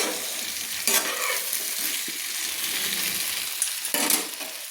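Chunks of flat beans frying in oil over a medium gas flame sizzle steadily and close by, with a few louder bursts as the pieces are stirred.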